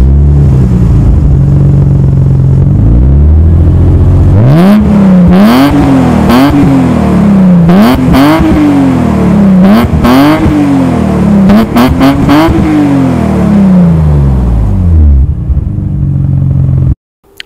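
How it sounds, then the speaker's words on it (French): A 1994 BMW M3 E36 3.0 convertible with an AC Schnitzer silencer idles loudly, then is blipped through a series of rising and falling revs in a rhythmic pattern before settling back to idle and cutting off. "On écoute tout de suite ensemble la sonorité juste exquise de notre exemplaire qui est équipé d'un silencieux AC Schnitzer."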